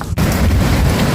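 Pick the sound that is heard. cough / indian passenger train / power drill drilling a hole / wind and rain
wind and rain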